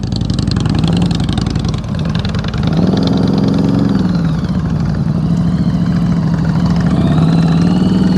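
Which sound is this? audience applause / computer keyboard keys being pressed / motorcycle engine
motorcycle engine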